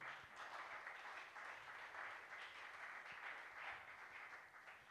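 A church congregation claps and applauds together in a sustained, even wash of many hands, heard from a distance and fairly faint, without a break for the full stretch.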